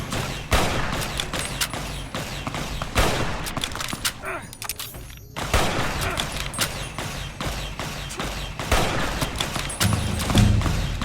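Plasma rifle fire in Fallout New Vegas: repeated sharp shots in quick clusters, loud and close, keeping up a near-continuous exchange of fire with short pauses between volleys.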